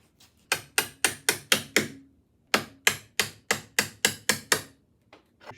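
A hammer strikes drive pins out of the trim and tilt unit of a Yamaha 250 outboard, sounding as two loud, even runs of about seven sharp metallic blows each, separated by a short pause.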